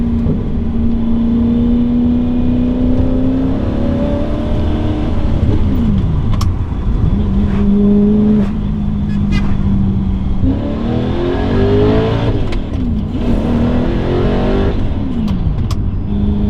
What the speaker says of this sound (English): High revving, naturally aspirated.